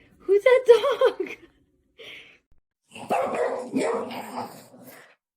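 A dog barks in a quick burst of several yips, then gives a longer run of barks and whimpery yaps after a short pause, close and fairly loud.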